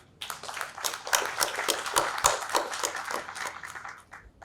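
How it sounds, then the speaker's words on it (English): An audience applauds at a business awards ceremony in Bhopal, a dense patter of many hands clapping that swells quickly, holds for a few seconds, then tapers off. "Can we have a huge round of applause for Sheetal Bhatt?"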